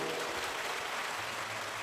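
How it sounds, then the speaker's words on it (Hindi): Audience at a Hindu Shiv Puran religious discourse in Ujjain claps loudly, a dense continuous wash of applause from a large crowd, steady throughout with no talk over it. "एक बार जोरदार ताली बजाएं"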